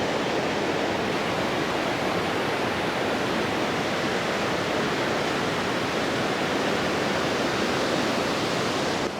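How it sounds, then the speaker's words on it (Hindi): Fast-flowing mountain river at Kasol in Himachal Pradesh, swollen after rain, roaring as a steady, loud, dense rush of water throughout with no let-up and no voices. "ये पानी की रफ्तार बहुत ज़्यादा है, क्योंकि पहाड़ों में जो है ना बारिश वगैरह हुई है"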